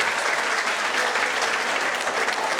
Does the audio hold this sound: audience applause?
yes